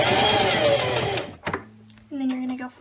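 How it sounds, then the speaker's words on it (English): A sewing machine stitching a straight line across fabric, a loud steady mechanical whir that stops, then a shorter burst starts again, with someone talking over it. "you're gonna just sew a straight line across here"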